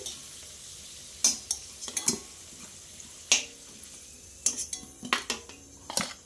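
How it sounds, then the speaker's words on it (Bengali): A utensil scraping and clinking against a pan in scattered sharp strikes as potatoes fry in oil, with a faint sizzle underneath. "এমনিই আমি আলুটা ভালো করে ভেজে নিলাম"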